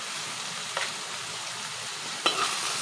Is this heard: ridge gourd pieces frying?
yes